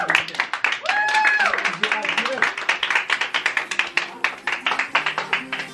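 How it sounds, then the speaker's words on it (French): A room of people at a baby gender reveal party breaks into applause after a few spoken words, with steady, fairly close clapping that keeps going to the end. "Allez, on applaudit là."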